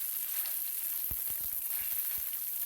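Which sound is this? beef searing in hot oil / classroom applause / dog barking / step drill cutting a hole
beef searing in hot oil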